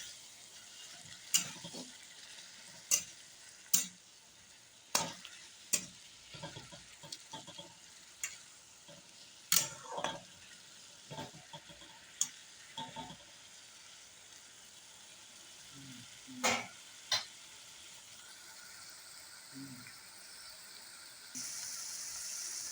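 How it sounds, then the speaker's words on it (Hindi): Tomatoes being stirred into a frying pan for a homestyle egg curry, a soft sizzle underneath sharp clinks of a spoon scraping and tapping the pan at irregular intervals. "वो अच्छी तरह टमाटर मिलाएगा।"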